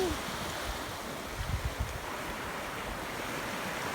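Ocean surf rolls onto a beach in Salcedo, Eastern Samar, a steady broad wash of waves with a few heavier thumps of breaking water, mixed with wind buffeting the microphone at moderate distance.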